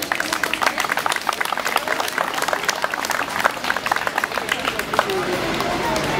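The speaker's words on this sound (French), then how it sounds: "Vous pouvez l'applaudir, c'est très bien." An audience applauds children after a karate demonstration at a 2014 association forum, brisk continuous clapping with lively crowd murmur and talking underneath.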